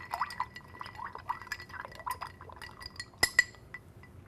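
Ice clinks and rattles against a mixing glass as a Manhattan cocktail with Angostura bitters is given a quick stir, light glassy taps at close range that end in a couple of sharper clinks.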